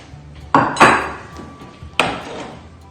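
A 200-gram block of butter is put into a metal saucepan on the stove, giving a few sharp clanks and knocks of metal up close, three distinct hits over a quiet background.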